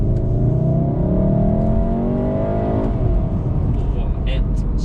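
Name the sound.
Volkswagen Golf R DSG engine revving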